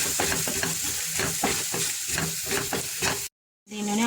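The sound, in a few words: frying chili powder and coriander powder in a pan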